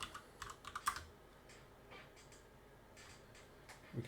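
Light, quick keystrokes on a computer keyboard come in short bursts with small pauses, close and quiet against a faint room hush, with no voices.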